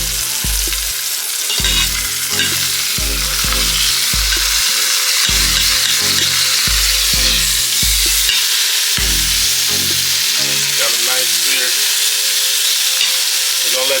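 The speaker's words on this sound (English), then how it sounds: "Getting a nice sear on it." Pot roast meat searing in an Instant Pot gives a loud, steady sizzle throughout, broken by repeated low thumps and clatter of handling at the start, with no talking.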